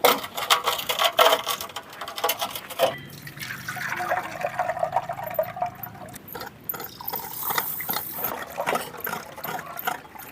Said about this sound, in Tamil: இந்த கடலை கழுவிடு